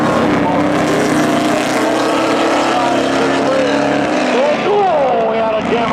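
Pickup trucks drag racing at Seekonk Speedway during spectator drags: a loud, continuous roar of straining engines fills the whole stretch, with a couple of sharp rising rev sweeps near the end, while an announcer talks over it.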